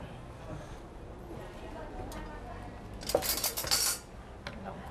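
Food is tossed with spices in a bowl at a barbecue, a short cluster of metallic clinks and scrapes near the end over a quiet background with low voices.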